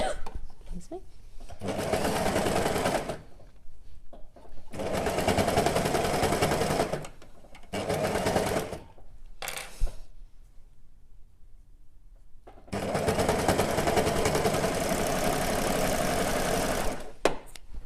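Sewing machine or overlocker stitching fabric in rapid bursts, several runs of steady mechanical whirring broken by short pauses, close and fairly loud.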